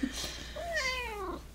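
A vocal house cat gives a single drawn-out meow with a rising then falling pitch, fairly close and clear, with faint room noise and no talking.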